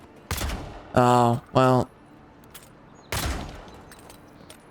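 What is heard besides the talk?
pistol shots in the video game Avowed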